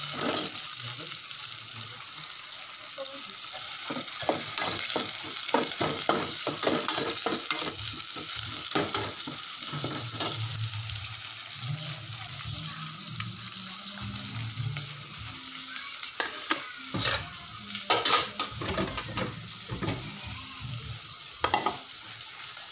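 Garlic and onion sautéing in a pan: a long, steady sizzle with repeated spatula strokes and scrapes, rhythmic at first and then scattered, plus brief watery splashes.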